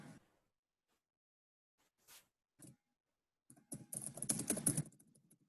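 Short bursts of typing on a computer keyboard, with a few isolated keystrokes followed by a busier flurry of clicks near the end, close and fairly quiet.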